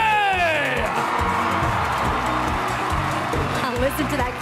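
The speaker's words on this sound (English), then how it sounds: "Now listen to that crowd roar." Crowd at the 2015 Miss Universe swimsuit competition roars and cheers in a loud, continuous wash of shouts and whoops, with music and an announcer's voice running over it.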